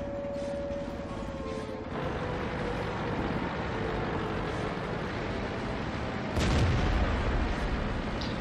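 Booming tank cannon fire from World of Tanks, British low-tier vehicles aimed at a capture circle, heavy blasts under a steady rumbling engine drone, with a loud burst near the end.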